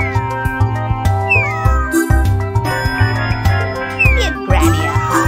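A cartoon cat in the Super Granny 3 video game meows several times in short, whiny calls over a busy looping music track with jingly game effects, no talking.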